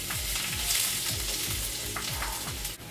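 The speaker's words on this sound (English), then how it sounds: "now we're gonna add the garlic." Garlic hits hot oil for lomo saltado, a broad bright sizzle filling the pan, with a steady run of soft stirring scrapes and low rhythmic knocks underneath.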